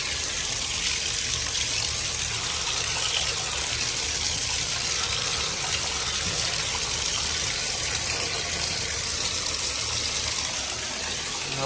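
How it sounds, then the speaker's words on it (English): Water runs steadily from a tap over acoustic foam panels, a continuous loud gushing and splashing close by with no talking. "says to add water."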